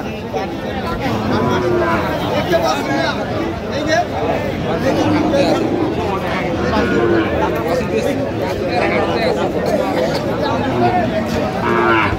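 Bony cattle at a busy livestock market in Aftabganj moo now and then amid steady crowd babble, with people talking and bargaining throughout the scene.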